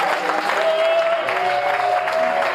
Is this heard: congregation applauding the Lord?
yes